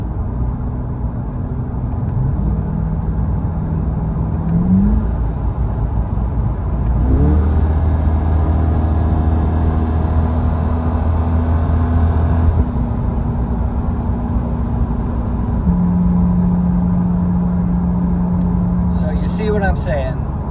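A Corvette E-Ray V8 engine revs above 4,500 rpm while driving, a loud sustained engine drone with pitch steps rising and settling as gears shift, heard steadily throughout from inside the car.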